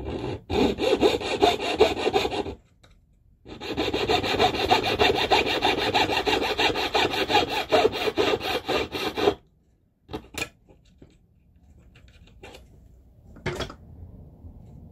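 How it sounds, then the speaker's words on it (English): A saw cuts down a metal rivet for a sea glass spinner necklace. Loud, continuous rasping strokes run close by in two long bursts, followed by a few scattered clicks and taps and a softer scraping stretch. "Remember when you cut it down to use your saw, not the shears"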